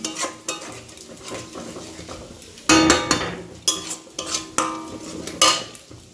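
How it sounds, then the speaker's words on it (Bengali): Spice paste for fish curry fries and is stirred in a pan, with close sizzling under repeated sharp metal spatula scrapes and knocks against the pan. "কাটিং মাছটা হবে তার জন্য এই যে মশলাটা কষাচ্ছি আর এই যে মাছ কষানো হয়ে গেছে"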